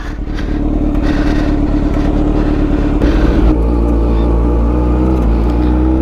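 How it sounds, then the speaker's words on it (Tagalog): A motorcycle fitted with a new SC Project MotoGP full exhaust with link pipe revs loud and close, a steady throbbing roar that swells in a sharper burst near the middle before settling back into a sustained, heavy drone. "ito na yung bagong exhaust natin. Ito yung sound, ito yung tunog niya."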